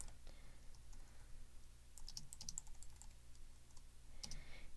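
Computer keyboard typing during C programming, with soft rapid key clicks in irregular bursts over a steady low hum, the sharpest strikes clustered near the middle and end.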